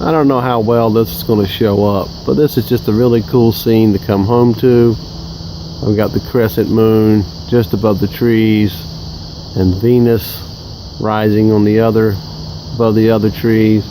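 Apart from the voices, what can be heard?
frogs singing on a warm February night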